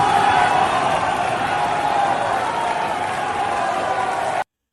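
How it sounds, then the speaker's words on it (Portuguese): Deputies in Colombia's Assembly booing Gustavo Petro: a dense, steady crowd roar of jeers and shouts that fills the room at full volume and cuts off abruptly near the end. "Porque eles estão sendo vaiados pelos outros deputados."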